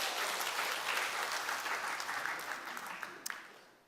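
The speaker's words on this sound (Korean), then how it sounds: "박수 한번 할까요?" Church congregation clapping during a sermon at Yangpyeong-dong Church, a brief burst of applause that starts fairly full and fades away over a few seconds, with a couple of sharp claps near the end.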